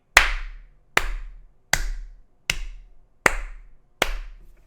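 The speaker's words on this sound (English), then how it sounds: "Round of applause." Six slow, evenly spaced hand claps, each loud, close and crisp with a short ringing tail, and silence between them, like a deliberate slow clap with no voices.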